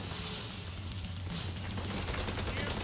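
Machine guns fire continuously in The Division 2, with rapid rattling bursts and sustained gunfire mixed with players' voices chatting.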